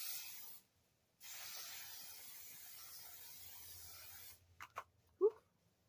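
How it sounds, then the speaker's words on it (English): A long, steady hiss of One Size setting spray by Patrick Starr, pausing briefly and then continuing for several seconds, followed by a few soft clicks and a short exhale. "I'm going to go in with this One Size setting spray from Patrick Starr"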